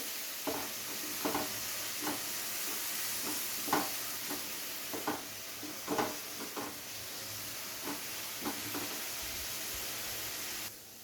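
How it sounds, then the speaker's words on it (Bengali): Onions sizzle steadily in a pan for paneer butter masala, a constant soft hiss broken by the intermittent scrape and clack of a stirring spoon, with no talking. "পেঁয়াজটাকে একটু হালকা করে ভেজে নেব যতক্ষণে না পেঁয়াজের কাঁচা গন্ধটা চলে যাচ্ছে"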